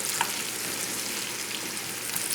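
Radishes sizzle and crackle steadily in butter in a non-stick pan, a dense, close frying hiss with a few brighter pops throughout.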